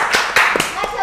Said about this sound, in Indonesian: tepuk tangan dong buat Mem